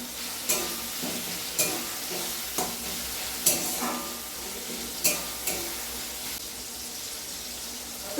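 Ingredients for biryani sizzle steadily in a hot pan, broken every second or so by sharp scrapes and taps of a spatula stirring against the metal.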